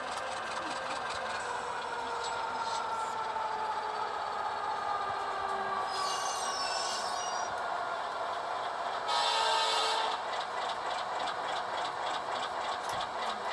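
A BN Alco C-415 diesel locomotive idling in a rail yard near a highway overpass, a steady low rumble with a rough throbbing texture, moderately distant, with a brief hiss or air release partway through.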